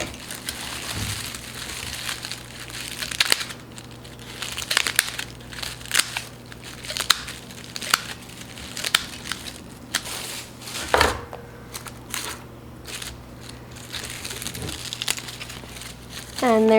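Dried garlic stems are trimmed off a seed garlic braid, giving repeated crisp crunching snips and crinkling of papery stalks at close range, scattered over the whole stretch while a person talks intermittently.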